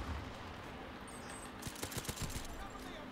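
A quick burst of several gunshots rings out in Call of Duty H1, a rapid cluster of sharp cracks in the second half over low game ambience.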